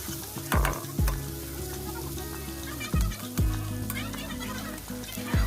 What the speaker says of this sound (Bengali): চিনিটা লাল হয়ে উঠলে ওর ওপর দিয়ে দেবো হলুদের গুঁড়ো।